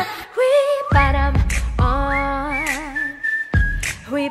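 Melodic whistled hook from a live cover of a song, clear and close, gliding and wavering through several phrases with short pauses, set against a steady backing track.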